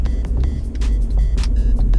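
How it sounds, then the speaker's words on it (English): Acura TL six-speed manual with a Stage 3 clutch, lightweight flywheel and Spec throwout bearing, its bearing giving a growling, groaning whine over a steady, loud low engine rumble close by, with no talking. "it sounds like a Chewbacca noise, I guess you could say"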